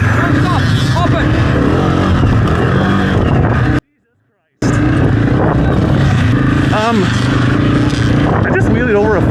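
A dirt bike engine revs hard and loud while the rider pops a wheelie over a log on a training ride, close and continuous with a brief dropout midway and speech over it.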